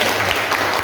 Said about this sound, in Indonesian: Ikut tepuk tangan.